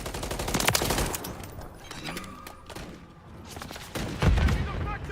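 Gunfire in a military video game: bursts of automatic shots and heavier thuds, loud at the start, easing off through the middle, then a deep close boom and renewed firing near the end, with radio-style voices talking underneath.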